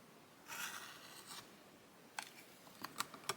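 A blade slices fabric alongside a quilting ruler, several short scraping strokes followed by a few crisp close taps and snips, quiet and close with no talking.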